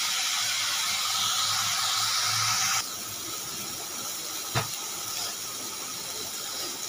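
Leafy greens with turmeric and salt fry in a pan over a high flame, giving a steady broad hiss that eases slightly partway through, with one small click near the end.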